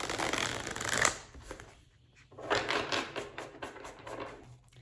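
Tarot cards being shuffled in quick riffling bursts, close and fairly quiet, with short pauses between the shuffles.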